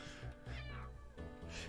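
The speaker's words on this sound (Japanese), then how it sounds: "めちゃめちゃ最後の最後でね、猫、音入っちゃったんですよ。" A cat meows a few times nearby during a live stream, with short, faint calls in a quiet room.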